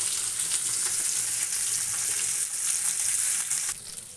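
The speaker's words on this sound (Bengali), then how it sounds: "এদিকে কিন্তু আমার মাছ ভাজি হয়ে যাচ্ছে" Koi fish fry in oil in a pan with a dense, steady sizzle heard up close, easing slightly at the very end, with no talking.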